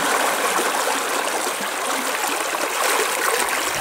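River water rushing and bubbling on the Razdolnaya River near Pokrovka, a loud, continuous broadband churning close by with no voices.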